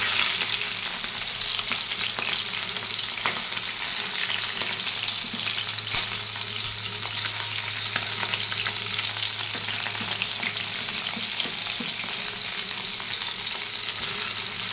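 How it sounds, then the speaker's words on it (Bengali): Fish pieces frying in hot oil give a steady, dense sizzle that carries through the whole stretch, close and even, with no voices. "মাছগুলো আগে ভেজে নিচ্ছি"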